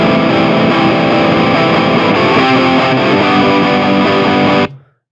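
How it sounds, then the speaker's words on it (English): A loud, heavily distorted electric guitar rings out with a thick sustained tone from a Studio One Ampire amp simulation boosted by a Tube Screamer, held for several seconds before cutting off abruptly. "So now you have that distortion sound."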